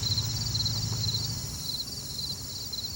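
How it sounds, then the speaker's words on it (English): Steady, high-pitched cricket chirping pulses continuously in a quiet outdoor setting, fairly close and even in rhythm. "he learned to count the crickets' chirps"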